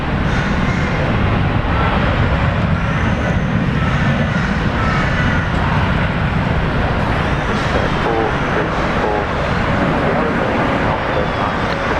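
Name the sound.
Air Canada airliner arriving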